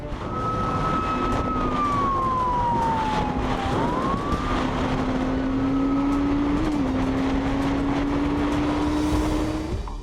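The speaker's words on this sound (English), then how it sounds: "Despite the cop flashing his sound and sirens" A police car siren sounds a slow wailing tone that sweeps down and up, moderately distant over a steady wash of traffic and engine noise while bikers speed nearby.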